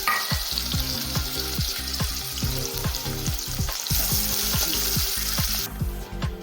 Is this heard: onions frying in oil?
yes